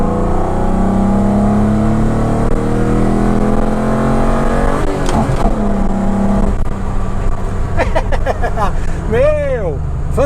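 Ford Escort XR3 fitted with a V6 engine revving up to around 6,000 rpm, the engine note rising and falling with sharp climbing sweeps near the end, while someone talks excitedly throughout.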